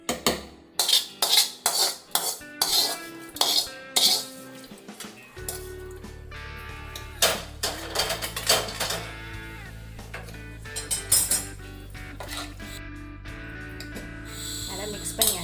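Cashews and tempering being stirred into venn pongal in a pot, with repeated close clinks and scrapes of a spoon against the metal pot, first in sharp bursts and then as steadier mixing over a low background hum.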